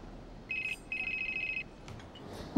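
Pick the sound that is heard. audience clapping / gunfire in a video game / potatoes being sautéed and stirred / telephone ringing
telephone ringing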